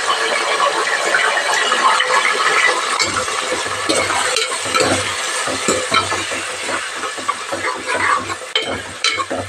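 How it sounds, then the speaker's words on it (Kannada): Tomatoes frying with onion and cashews in a pan make a loud, close sizzle with bursts of stirring and scraping, uneven in rhythm and free of speech. "ಟೊಮೊಟೊ ಎಲ್ಲ ಚೆನ್ನಾಗಿ ಸಾಫ್ಟಾಗಿ ಬೇಯೋವರೆಗೂ ಒಂದು ಸ್ವಲ್ಪ ಫ್ರೈ ಮಾಡ್ಕೊಳ್ಳಿ ಫ್ರೆಂಡ್ಸ್"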